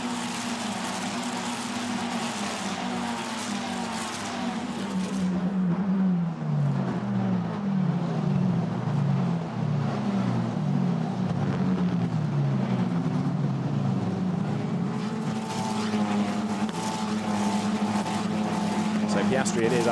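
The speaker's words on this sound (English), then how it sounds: "Leaders go over the timing line, and as they come through, Caio Collet" Formula Renault Eurocup race cars howl past at Spa-Francorchamps, engine notes climbing and dropping as they pass one after another, loud and continuous beneath excited commentary.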